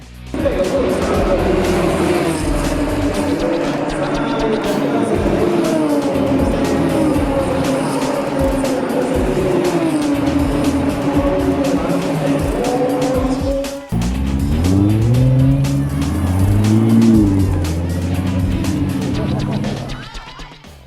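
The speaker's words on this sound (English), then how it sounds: "you can actually hear the drivers and engineers fire them up" Loud, continuous race car engines roar and rev at close range, with a brief dip then renewed revving; voices are faintly mixed in.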